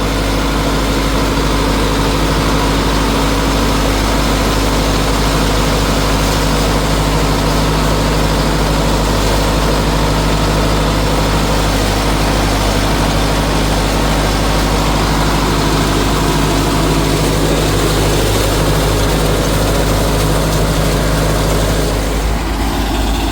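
A Sonalika Tiger 75 CRDI 4WD 75 HP tractor runs steadily through the whole stretch with a loud, constant low engine drone and hum, working PTO-driven banana mulching in a field.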